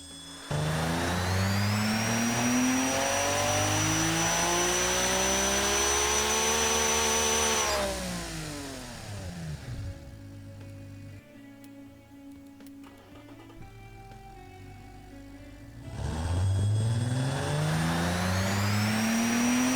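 Simulated single-turbo 7M-style engine in the Automation car tycoon game revving on a dyno, twice climbing steadily to a loud high whine with turbo whistle, dropping to a burbling idle between pulls.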